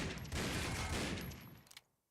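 Dense, rapid gunfire in a competitive esports match fills the first stretch loud and continuous, then tapers into a few scattered shots and fades out.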